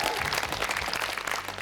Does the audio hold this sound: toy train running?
no